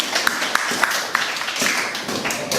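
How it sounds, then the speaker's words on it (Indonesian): A class gives a round of applause to a student group after their presentation, a thin, fairly quiet patter of claps with a few sharper individual hits standing out over roughly two and a half seconds. "tepuk tangan untuk kelompok 3"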